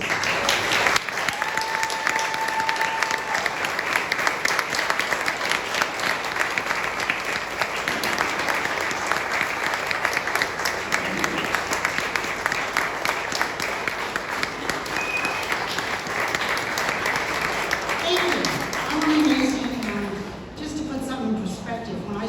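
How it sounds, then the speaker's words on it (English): Sustained audience applause fills a community action assembly hall, dense clapping holding steady at full volume for about twenty seconds before tapering, with a few voices rising near the end. "Please give a huge round of applause for these heroes."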